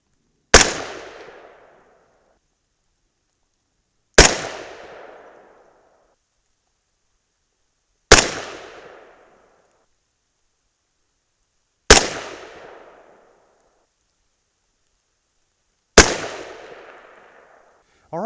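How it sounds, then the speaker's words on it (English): Five sharp 6.5 Grendel rifle shots firing a 120gr Hornady ELD load crack out at roughly four-second intervals, each loud report decaying quickly into silence between shots. "we're going to shoot the exact same load as the last group"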